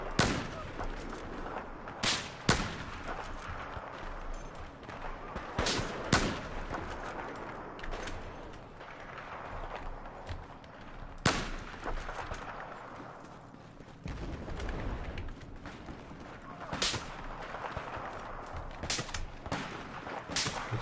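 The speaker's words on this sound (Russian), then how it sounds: "Я вообще никого не вижу, откуда стреляют." Gunfire in Battlefield 4 during close-range sniper play, sharp single rifle cracks spaced several seconds apart over a constant background of distant battle noise.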